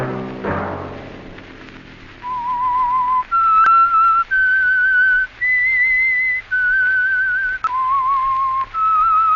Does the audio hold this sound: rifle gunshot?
no